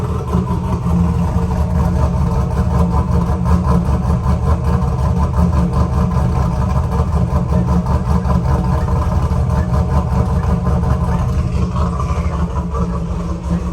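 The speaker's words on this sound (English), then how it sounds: "Beat the sound of a cammed LS." A cammed LS V8 in a WS6 idles on a cold start, a loud, steady, lumpy rumble with a choppy beat that runs alone and unbroken throughout.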